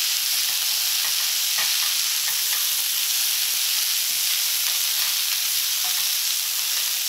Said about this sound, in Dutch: Roer ondertussen nog wel even in je groenten.